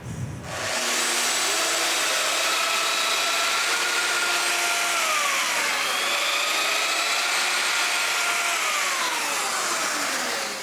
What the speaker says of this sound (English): Now I can mark for the mortises and drill them.